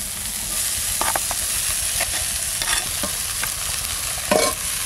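Leafy greens fry in a hot pan with potato nearby, a steady close sizzle running throughout, punctuated by several scraping stirs and a louder clatter near the end; no one speaks.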